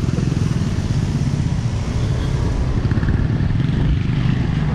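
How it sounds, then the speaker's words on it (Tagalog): A motor scooter, a Yamaha NMAX-style bike, rides through deep flood water, its engine droning loudly and steadily beneath a constant heavy splashing and churning rush of water. "ang tare na motor ni Oliver naging jet ski"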